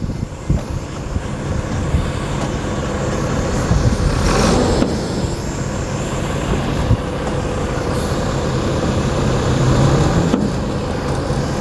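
A 2008 Mercedes OH 1525 bus engine revs up as it pulls forward, a loud, close diesel roar that swells and holds steady with a brief surge midway.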